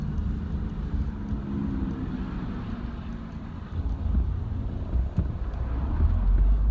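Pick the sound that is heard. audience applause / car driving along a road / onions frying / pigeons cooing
car driving along a road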